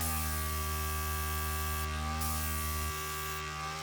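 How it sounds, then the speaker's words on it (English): A small air compressor for alcohol ink airbrushing runs close by with a steady, quiet electric hum and buzz and no other sounds. "I'm going to show you how it moves now with the compressor"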